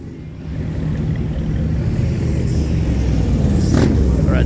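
A Cadillac engine rumbles with a deep, thick exhaust note, its level rising gradually as it revs, close and loud.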